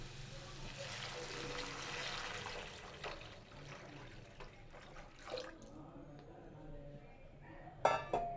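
Water pours from a tumbler into a cooking pot of vegetables for wheat rava, giving a steady splashing hiss for a few seconds before it fades to quieter clinks and drips.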